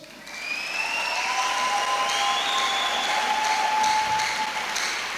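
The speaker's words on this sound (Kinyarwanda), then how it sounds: "Yimpera amashyi" Sustained applause from a church congregation, dense steady clapping held at an even, fairly loud level for several seconds, with faint voices rising above it.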